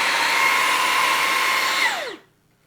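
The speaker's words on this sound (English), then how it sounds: "Look at all that stuff I vacuumed up already." A Levoit cordless vacuum cleaner running as a steady high-pitched motor whine, close and loud, then winding down in pitch and cutting off to silence near the end.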